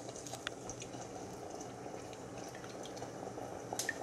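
Candy syrup bubbles steadily in a pot, a faint continuous low simmer with soft pops and occasional tiny ticks throughout.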